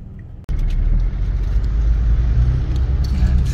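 Heavy road traffic in May Kawayan, a dense, loud low rumble of engines and tyres that swells suddenly and holds steady, with a few faint higher clanks over it.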